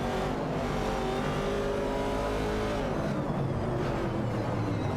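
Ford Falcon and Ford Mustang Boss race cars in a racing video game, engines droning steadily and loud throughout with shifting pitch as they contest position, no voices.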